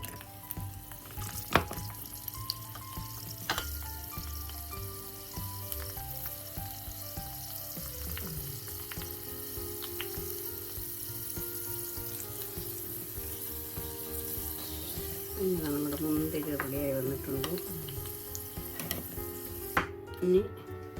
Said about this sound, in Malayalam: രണ്ട് ടേബിൾ സ്പൂൺ ഗീ എടുത്തിട്ടുണ്ട് അതിലേക്ക് നമുക്ക് മുന്തിരി ഇട്ട് കൊടുക്കാം